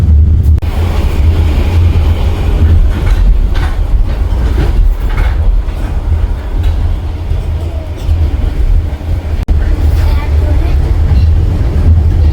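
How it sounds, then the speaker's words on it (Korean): Passenger train in Vietnam bound for Haiphong, heard from inside a carriage as a steady loud low rumble with faint rattling and clatter throughout, with occasional voices in the background. "하이퐁에 가는 기차에 탔습니다."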